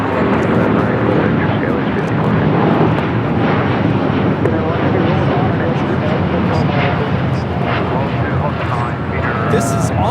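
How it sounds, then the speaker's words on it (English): All Nippon Airways Boeing 787-8 Dreamliner taking off from LAX bound for Tokyo Haneda, a loud continuous jet roar with wind buffeting on the microphone, and someone talking over it throughout. "This is All Nippon Airways Flight 125 taking off to Tokyo Haneda on a 787-8 Dreamliner"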